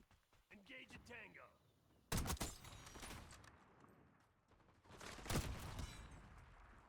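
Pistol shot fired at long range in a video game: two sharp, loud bursts, one early and one near the end, with people talking over and between them.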